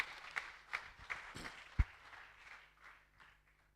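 Audience at a health week celebration clapping. A few scattered, fairly quiet claps ring out at irregular intervals rather than sustained applause.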